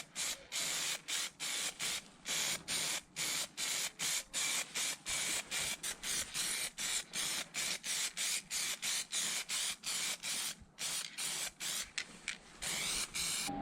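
A spray gun lays orange paint onto a big Toyota 80 series rear differential center in rapid, loud, repeated bursts of hissing spray with short breaks between them, no talking over it.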